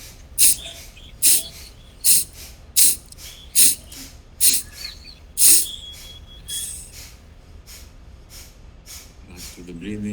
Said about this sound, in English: let's do another round of Kapalapatis. Do 15 this time.